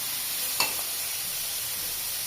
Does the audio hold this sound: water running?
no